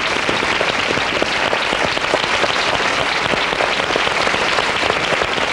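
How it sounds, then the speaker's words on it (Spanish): A TV studio audience gives a strong, dense round of applause, loud and sustained like heavy rain throughout, with no talking over it. "Un aplauso fuerte para ellas."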